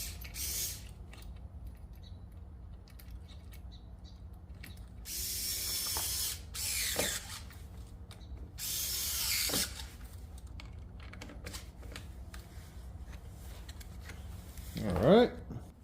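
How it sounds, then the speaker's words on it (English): Screws being backed out of an old door lock during a smart lock installation, heard as short ratcheting, creaking turns of a screwdriver or drill in a quiet room, ending in a brief louder squeak. "Take these screws out here."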